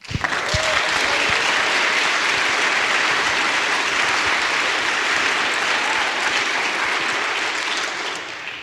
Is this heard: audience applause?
yes